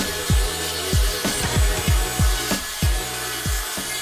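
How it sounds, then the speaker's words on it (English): Hand sanding of a handmade aluminium clock plate, a steady scraping rasp repeated in about ten regular strokes, close and fairly loud, with no talking. "I've got to do some sanding on it."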